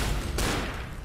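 Rapid gunfire in the zombie shooter Left 4 Dead, a dense burst of overlapping shots with a sharp louder crack partway through, continuous and close for about a second.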